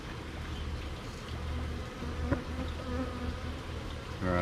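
Honeybees buzz steadily inside a hive during a two-hive merge check. The dense, continuous drone is close and fairly loud, and it swells slightly near the end. No one speaks.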